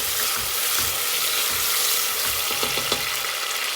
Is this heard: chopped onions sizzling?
yes